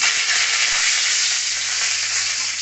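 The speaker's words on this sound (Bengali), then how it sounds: "আমি কারি পাতা দেবো ফোড়নে, হিং দিয়ে দিলাম, কারি পাতা দিয়ে দিলাম" Curry leaves and asafoetida hit hot oil for a tempering, making a loud, continuous, close sizzle with a bright crackling hiss throughout.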